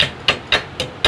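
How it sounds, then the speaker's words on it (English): Sledgehammer tapping on a 1956 VW Beetle part during EFI fuel system work, four sharp metallic knocks spaced evenly about a quarter second apart, close and clear with no talk. "And we'll just pop it a couple times. The sledge."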